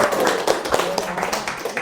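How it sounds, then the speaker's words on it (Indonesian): A classroom group claps hands in quick, uneven patters, a short burst of close applause with a voice faintly underneath. "Tepuk tangan untuk kita semua."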